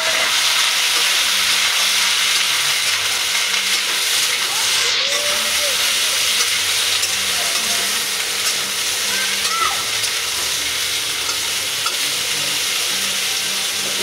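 Bitter gourd fries with spices and tempering, giving a steady, loud hiss and sizzle that carries on evenly throughout.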